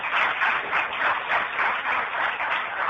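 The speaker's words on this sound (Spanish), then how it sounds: "Lamento haber despertado a los muchachos que están durmiendo ahí con este aplauso" Applause from a lecture-hall audience, a dense steady wash of many hands clapping at close range, carrying on evenly for the whole stretch with slight swells.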